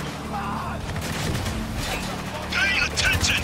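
Heavy gunfire and a rattling firefight in the shooter Spec Ops: The Line, steady and loud throughout with bursts piling up, while voices shout over the battle.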